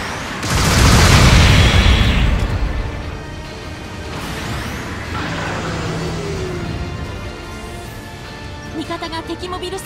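An enemy mobile suit blows up in Gundam Battle Operation 2, a loud booming blast that rumbles for about two seconds and fades into lingering battle noise and a faint descending whine.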